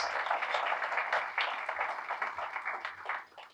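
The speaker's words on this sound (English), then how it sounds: "Let's give her, Darlene, and the committee a big round of applause" Steady round of applause from an audience at a Zonta Club of Malden awards gathering, a dense, even wash of many hands clapping at moderate distance for several seconds before tapering off.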